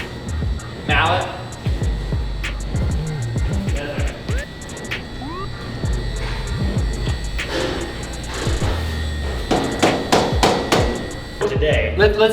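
Sharp hammer or mallet blows, irregular and fairly close, ring out over a steady background hum, with voices talking in between the strikes.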